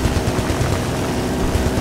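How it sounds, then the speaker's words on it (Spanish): Dense, continuous automatic gunfire in the video game Battlefield Bad Company 2, a loud steady rattle with rotor-like engine rumble underneath and no gaps across the whole stretch. "¡Sigue disparando a esos objetivos!"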